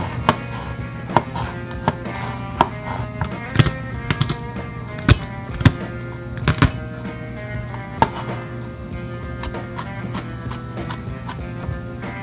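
Garlic being chopped with a knife on a board for a smoked corned beef brisket: scattered, irregular sharp taps over a steady low background hum, with no talking.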